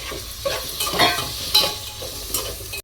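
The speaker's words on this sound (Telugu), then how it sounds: "ఇప్పుడు టమాటా, ఆలుగడ్డ, ములక్కాయ ముక్కలు కూడా వేసేసుకుందాం." Tomato, potato and drumstick pieces sizzling in a pan of mixed vegetable curry while a spoon stirs them, scraping strokes rising over a steady frying hiss, close and loud, no voices.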